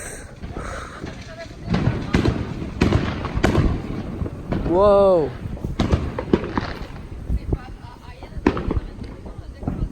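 Fireworks go off at a Fourth of July gathering, a rapid string of sharp cracks and pops with a rising whistle in the middle, close and loud, while people talk and exclaim over the bursts.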